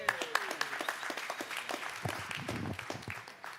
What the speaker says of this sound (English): let's give another round of applause for Aiden Ortiz